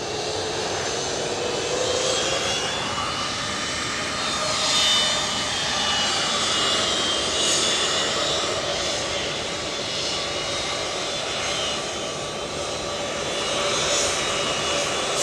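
A Lufthansa airliner lining up on the runway at Edinburgh Airport, its jet engines giving a steady, fairly distant whine and rumble that swells and eases gently throughout.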